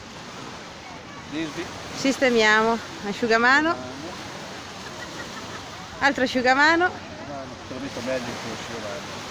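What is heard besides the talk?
sea waves on the beach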